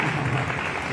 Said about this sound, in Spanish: Quiero que les den un aplauso fuerte también a todos ellos